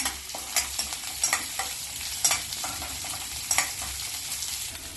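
Ginger, green chilli and curry leaves sautéing in a pan for oats upma, a steady sizzle broken by repeated scraping strokes of a spoon stirring at close range.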